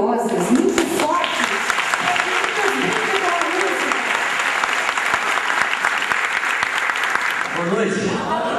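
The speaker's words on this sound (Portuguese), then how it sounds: "com palmas muito calorosas, muito fortes" Loud, sustained applause from an audience at a Father's Day awards evening fills the whole stretch, dense and steady from start to end with a few voices mixed in.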